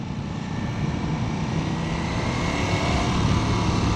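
A 2026 Ducati Panigale V4S motorcycle with a V4 engine, ridden in sport or race mode, gives a loud, continuous roar that holds steady and swells slightly as it goes on.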